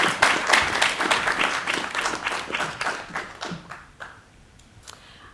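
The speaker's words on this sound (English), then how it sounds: "Another big round of applause for Chloe" Audience at a Year 12 school prize-giving assembly claps for a prize winner, the brisk applause thinning out and fading to a few scattered claps.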